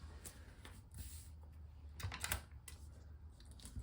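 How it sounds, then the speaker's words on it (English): A sublimation tape dispenser being turned to perforate the tape gives a few soft, close clicks and ticks in an otherwise quiet space, faint and irregular. "You just turn it and it automatically perforates the tape"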